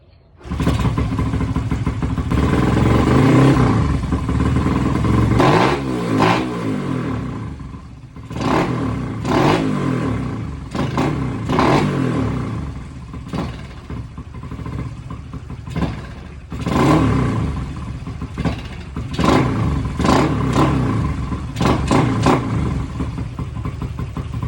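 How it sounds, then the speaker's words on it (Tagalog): A motorcycle engine fitted with oversized carburetor jets runs loudly and unevenly, sputtering and revving in repeated bursts with clattering mechanical noise close by. "pumipiyok-piyok lalo na pag umaandar yung motor"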